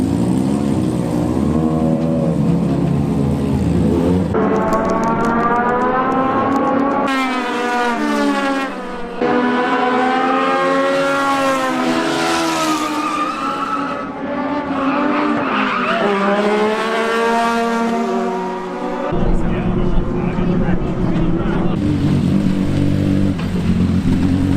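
A Legend race car laps a track in a practice session, its engine loud and close and rising and falling through gear changes, with tires squealing through the corners for about twenty-five seconds.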